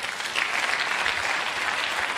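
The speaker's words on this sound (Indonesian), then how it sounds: "Tepuk tangan, saudara." A seated audience at a talk on economic and geopolitical crisis applauds, a loud, continuous wall of clapping from many hands that keeps an even level from start to finish.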